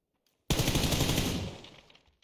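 Rapid automatic gunfire in a video game, a loud dense burst starting abruptly, lasting about a second before tapering off with a fading tail.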